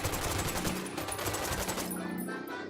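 Sustained automatic gunfire from a squad's weapons in the Ghost Recon Wildlands video game, dense overlapping bursts rattling continuously for a couple of seconds before easing off slightly.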